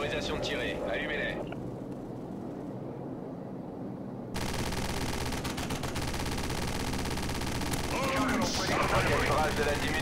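Sustained heavy automatic gunfire from the video game Call of Duty 4 roars loud and continuous after a quieter opening, with radio voices talking over it.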